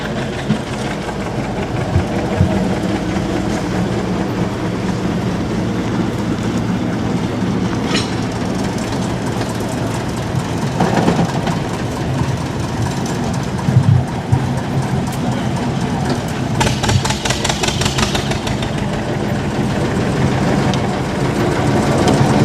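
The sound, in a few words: diesel locomotive engine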